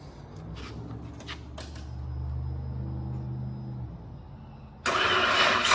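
Nissan RB25DET engine in an R33 Skyline GTST being cranked by the starter for several seconds with a low rhythmic churn, then catching and firing into a loud, steady running roar close by.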